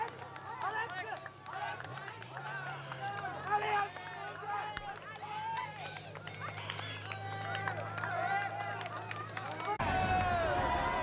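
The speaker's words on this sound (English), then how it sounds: "the crowds are dense and they're cheering everything they can" A dense roadside crowd at Alpe d'Huez during the 1999 Tour de France roars and cheers riders continuously, a loud babble of shouts and whistles with a commentator talking over it.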